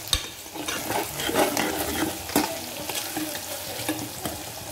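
Chicken biryani mixture stirred in a hot pan, a spoon scraping and turning the pieces while the oil sizzles and fries steadily underneath, close by and moderately loud.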